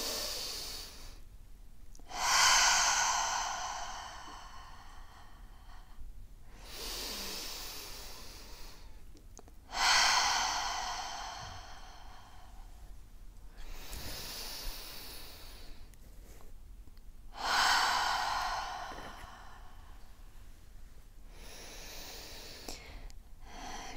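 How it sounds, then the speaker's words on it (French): A guided deep breathing exercise during a feng shui gratitude session, with three long, slow, audible breaths, each a breathy hiss that swells and fades, separated by quiet pauses, close and alone. "je vous guide justement avec ma respiration et plus fort vous allez respirer, mieux c'est"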